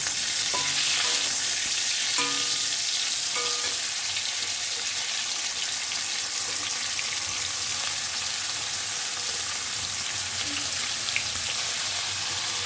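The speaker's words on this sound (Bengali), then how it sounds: "সেই সময় আমি এর মধ্যে কেটে রাখা পনিরগুলো দিয়ে দিচ্ছি।" Cubed paneer fries together with potatoes in a pan, a dense continuous sizzle with occasional stirring scrapes and clinks throughout, steady and close.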